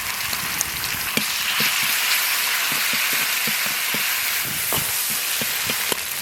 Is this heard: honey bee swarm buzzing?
no